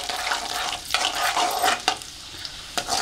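Cumin and ginger fry in hot ghee on a low flame for foxtail millet venpongal, a close, bright sizzle broken by repeated stirring scrapes of the spoon against the pan.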